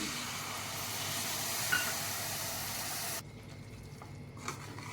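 Tamarind water poured into hot oil and masala for an egg curry hisses and sizzles loudly and steadily, then drops abruptly to a quieter simmering crackle about two-thirds through.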